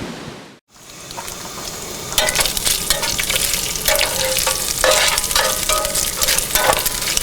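Bacon frying at a campsite, a loud, close, continuous sizzle and crackle with sharp spatters and scraping stirs that grow busier after a brief early dip.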